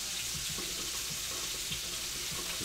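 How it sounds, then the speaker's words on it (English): Cooking water poured from a pot into a kitchen sink, a steady rushing splash of draining water, close and continuous without pause for a few seconds. "I'm gonna drain the water and then keep them warm."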